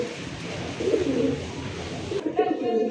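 Lakha pigeons cooing at a pigeon seller's, low soft throaty coos repeating close by, mixed with a person talking and general background noise.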